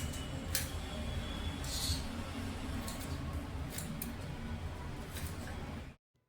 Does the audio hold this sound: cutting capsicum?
yes